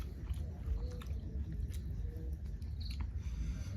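Someone eats hot vegetable khichuri on a cold winter night at an outdoor picnic, with soft, steady chewing and small mouth sounds close by under a constant low background hum.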